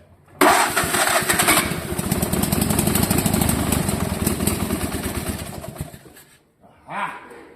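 A small Fiat engine fitted with a lawnmower carburetor cranks and catches on its first test fire, running loud and rough with a rapid, buzzy chatter for several seconds before cutting out, followed by a brief voice.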